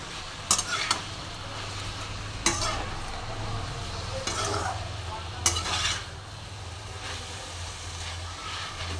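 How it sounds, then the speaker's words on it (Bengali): Radish greens, radish and potato get stirred in a frying pan, with a steady soft sizzle under several distinct scraping strokes of a spoon against the pan at irregular intervals. "এখন দেখো আমি একটু নেড়ে মিশিয়ে নিচ্ছি"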